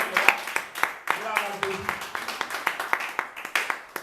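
A church congregation claps in a quick, uneven rhythm of sharp, close hand strikes, mixed with voices calling out in acclamation.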